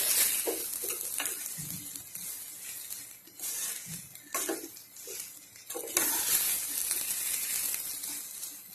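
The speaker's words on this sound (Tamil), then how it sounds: "சேர்த்து பொறுமையா கிண்டி விடுவோம்." Fried egg and bread masala get stirred in a hot pan, soft scraping and tapping strokes over a continuous sizzle that swells and dips across several seconds.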